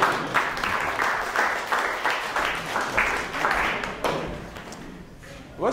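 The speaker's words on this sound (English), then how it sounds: "You know, you are allowed to applaud it." Lecture-hall audience applauding a mathematics demonstration in a topology and geometry lecture, a moderate patter of clapping that rises and falls with soft knocks, a voice murmuring faintly underneath.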